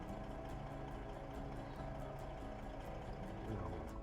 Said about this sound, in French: Alors, on va couper le moteur.